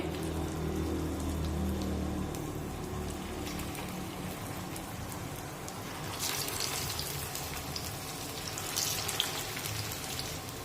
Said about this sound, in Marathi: आता जे शिल्लक वडे आहेत ते सुद्धा तळून घेते